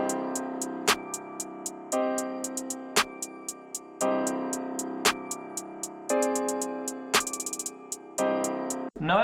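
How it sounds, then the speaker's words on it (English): Dark trap beat in a villain style, with a repeating bass-heavy loop, sharp claps and ticking hi-hats that break into fast rapid-fire rolls around the claps, clean and prominent throughout. "basically the hi-hats just have some cool rolls in it"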